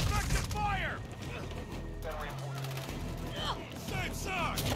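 Gunfire rattles through a team domination match in a military shooter, bursts of shots and impacts mixed with radio chatter and a voice speaking over the battle.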